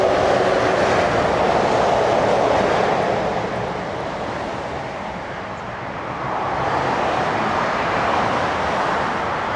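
A train passes near a motorway beside a canal, a broad roar of rail and traffic that swells, dips in the middle, then rises again, heard from some distance with no talk.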